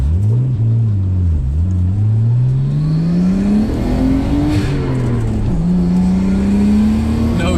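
Heard from inside the cabin, a Nissan R32 Skyline is pushed hard through the gears, its engine droning loudly and rising in pitch with brief dips at each shift, steady and close throughout.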